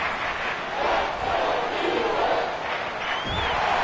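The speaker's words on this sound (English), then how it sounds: "This crowd turning up the decibel level." A stadium crowd in a Madden football video game roars in a continuous, loud swell of voices on third and long, building and ebbing slightly with a thump near the end.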